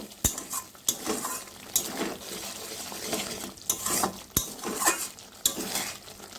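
Spice masala made with salt, turmeric, Kashmiri chili powder and a little sugar sizzles as it fries in a pan, with repeated close spatula scrapes and clinks against the metal in an uneven stirring rhythm.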